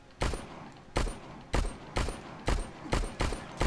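Gunfire in the StarForge video game as a player shoots at creatures: seven loud, sharp shots spaced roughly half a second apart, each with a short decaying tail, and no talking.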